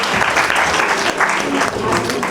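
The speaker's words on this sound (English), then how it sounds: "Come on everybody, a big clap" Crowd at a ceremony breaking into loud, dense applause, continuous close clapping with some cheering voices mixed in.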